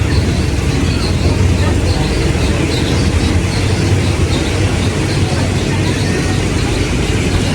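Local train 447 from Surat Thani to Sungai Kolok rumbles along the track in Thailand, a loud, steady rolling roar with rhythmic wheel clatter heard from aboard, with a voice speaking over it.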